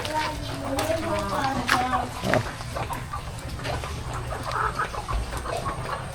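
Chickens cluck and call at middle distance over steady outdoor background noise, with people talking nearby, in a yard after flooding has receded.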